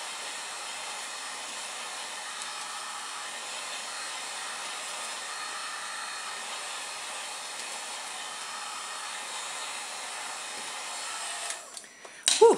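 Heat gun blowing on homemade makeup brush cleaner soap, a steady close airy roar held for about eleven seconds before cutting off into brief handling noises.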